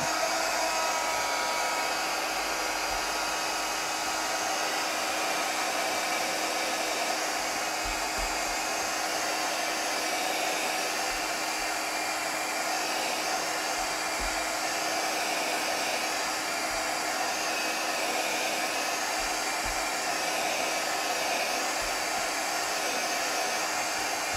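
Heat tool blowing hot air onto a Dollar Tree pool noodle candle, a steady whirring hiss that runs unbroken and close, with no talking.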